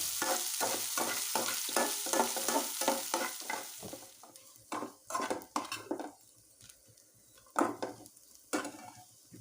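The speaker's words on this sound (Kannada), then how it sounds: "ಇಲ್ಲಿ ಈರುಳ್ಳಿ ಸ್ವಲ್ಪ ಗೋಲ್ಡನ್ ಬ್ರೌನ್ ಬರೋ ಗಂಟ ನೀವು ಫ್ರೈ ಮಾಡ್ಕೋಬೇಕಾಗುತ್ತೆ" Onions frying in a pan until golden brown for a leftover idli dish, with sharp rhythmic clatter of a spoon stirring against the pan over a steady sizzle, then sparser scrapes and taps; no talking.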